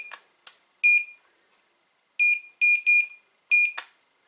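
An OTIS Gen2 elevator direction indicator beeps in short, bright electronic tones, several single and paired beeps spaced irregularly with brief clicks of button presses between them, close and fairly loud.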